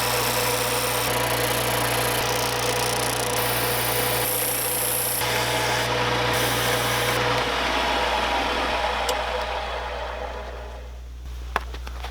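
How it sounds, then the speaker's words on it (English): A 1-inch belt sander runs continuously while barn wood revolver grips are sanded, a loud, steady motor drone with abrasive grinding close by that eases near the end, with no talking. "now I'm going to start sanding to the lines I've traced on the inside there and get as close as I can to them"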